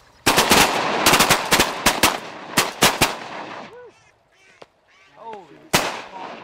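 A rapid volley of close, sharp shotgun blasts rings out during a duck and goose hunt, about a dozen shots in quick bursts, followed by scattered goose honks and a last lone shot.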